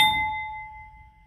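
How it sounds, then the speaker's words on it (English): A crystal glass piece struck and left ringing, one clear bright ding that hangs in a long pure sustained tone and slowly fades, close and alone. "That's a really, really a nice ringing piece of crystal there."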